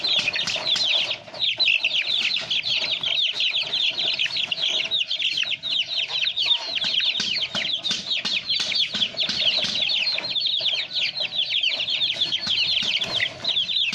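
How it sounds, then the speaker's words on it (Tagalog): A large flock of backyard chickens raised on a provincial home clucks continuously and densely for the whole stretch, many birds chattering at once close by. "Ito naman po yung mga alaga niyang manok."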